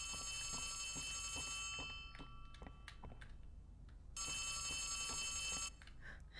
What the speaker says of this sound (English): It's always smart going towards a ringing phone